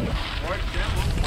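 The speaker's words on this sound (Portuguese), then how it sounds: "Olha o vento, rapaziada" Strong wind blows outdoors at night near houses and woods, a constant rushing roar buffeting the microphone, with people talking over it.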